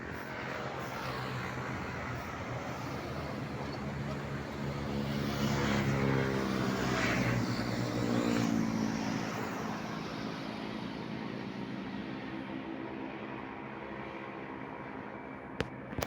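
Steady highway traffic in Ordoneta, Pangasinan, a continuous roadside rumble of passing vehicles that swells as a larger one goes by mid-way and then eases back to a constant wash.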